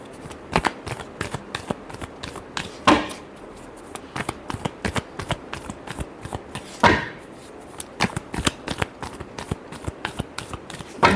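Tarot cards being shuffled by hand in quick riffling bursts, with sharp slaps and fluttering snaps repeating steadily and up close, no voices over them.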